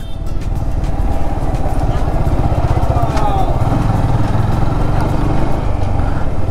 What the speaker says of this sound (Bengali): মাঝে মধ্যে আমাদের এরকম পাহাড়ে উঠা লাগতেছে, ভালোই প্রেশার দেওয়া লাগতেছে বাইকে